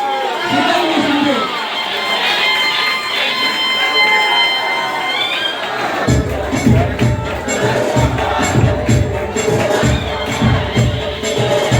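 At an election campaign rally, a crowd welcomes Lok Sabha candidate Dr. Shrikant Shinde with loud applause and cheering that builds into dense, continuous clapping over the second half, following an amplified announcer's voice.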